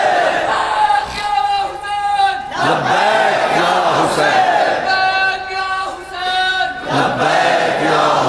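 A large crowd at a religious gathering shouting a slogan in unison, loud repeated waves of chanting and cries that rise and fall in rhythm, close and powerful throughout.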